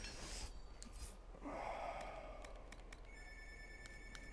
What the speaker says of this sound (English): Oh shit, the phone's ringing